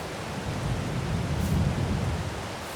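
Heavy rain pours steadily outdoors, a dense broadband hiss with a low rumbling undertone, loud and continuous throughout with no voices.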